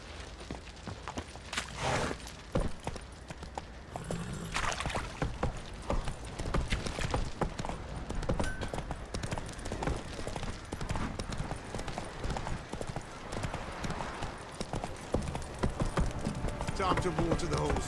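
Horse hooves clip-clop in The Witcher 3, a steady run of close hoofbeats on the ground with occasional heavier thuds, while game voices talk over them.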